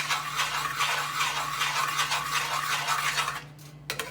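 Sweet puran of cooked dal and sugar is stirred in a pot, giving a steady, close scraping and swishing texture that runs continuously and then briefly stops near the end.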